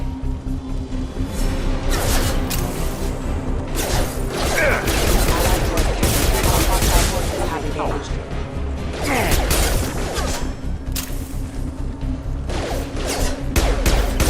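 Gunfire from a firefight against security mechs in the video game Mass Effect 2, a dense, continuous barrage of shots, impacts and crashes that stays loud throughout, layered with game effects.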